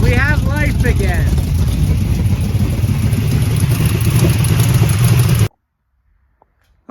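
Chevrolet C10 sleeper truck engine running after a restart, a steady loud rumbling idle with a voice over it early on, stopping abruptly into silence.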